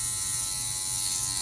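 A tattoo machine set up as a shader buzzes steadily and continuously at close range during live tattooing, a constant electric hum with no pauses.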